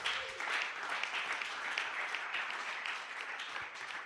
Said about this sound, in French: Acclame encore très fort pour Jésus